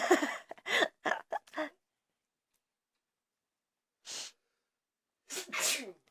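A sneeze bursts out after a short run of speech, then a quiet pause, a soft breath or sniff, and a second sneezy burst near the end.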